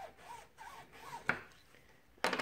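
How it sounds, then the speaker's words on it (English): Paper is burnished down onto tape on a junk journal cover, making soft, close rubbing strokes with a couple of sharper scuffs, quiet and without talk. "burnish it down so it's stuck good"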